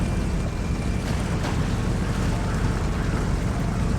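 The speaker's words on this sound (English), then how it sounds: "we're just going to go right through the water this time" An expedition vehicle drives straight through shallow water among rocks, a steady close wash of splashing and rushing water mixed with wind buffeting, continuous for the whole stretch.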